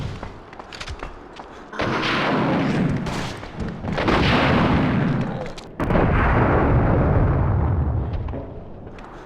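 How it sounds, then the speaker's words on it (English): Ultimate weapon fired in Resident Evil Outbreak unleashes huge, roaring explosions, heavy booming blasts that rumble and sustain in several loud waves with sharp onsets, no talking over them. "Huge explosion."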